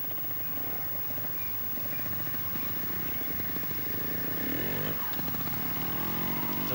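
A trials motorcycle at a junior kickstart event, its engine droning steadily and rising slightly in level as it rides over bumps, heard alone without talk.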